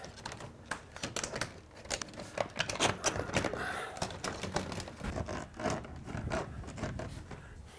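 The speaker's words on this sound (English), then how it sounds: "I'm gonna create two separate templates by cutting this in half" Rapid, close cutting and rustling as a trim template for a carport screened-porch build is sliced in half, a dense run of crisp ticking and scraping strokes that continues steadily without talk.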